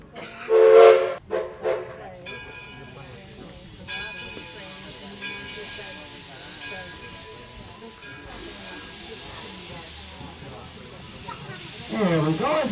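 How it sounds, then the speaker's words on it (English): A small village train's horn sounds in bursts alongside hissing steam and rumbling machinery, with a louder blast near the start and faint voices in the background. "we hear a blast of the horn from the engineer"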